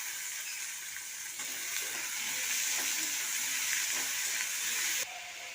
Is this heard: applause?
no